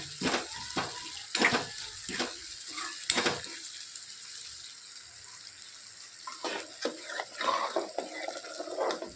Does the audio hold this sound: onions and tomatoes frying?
yes